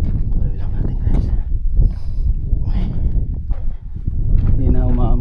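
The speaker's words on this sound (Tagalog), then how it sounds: "Kaso lang malamig yung hangin." Steady, blustery cold wind rushes across the microphone throughout on the Wadi Ghalila Dam hiking trail, a low roar with gusts rising and falling.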